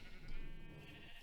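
Sheep bleating in a video game wool farm on a floating island, a steady blend of bleats running through the whole short stretch at moderate loudness, with no talking.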